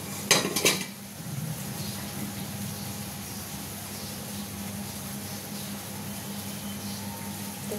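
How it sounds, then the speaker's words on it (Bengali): A metal lid comes off a pan of cooking pancake with a couple of sharp clanks near the start, followed by a quiet steady hiss from the pan. "আমি কিছুক্ষণ পর ঢাকনাটা খুলে দিচ্ছি"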